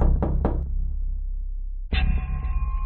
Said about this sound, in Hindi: इसलिए गुल्ली एक बार फिर से दरवाजा खटखटाता है।